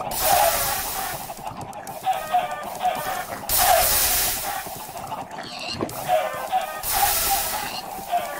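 Minecraft chickens clucking repeatedly in a crowded animal pen, short bursts of clucks recurring every couple of seconds, fairly close, over a hissing background with brief game sounds in between.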